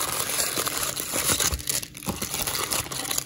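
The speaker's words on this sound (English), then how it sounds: "It's really hard to get this box open" A 2020 Bowman Draft jumbo box of baseball cards being pried open, with steady close crinkling, crumpling and tearing of cardboard and wrapping running for several seconds.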